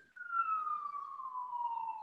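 A police siren wails outside, one long, slowly falling tone that carries steadily from a distance with no talk over it.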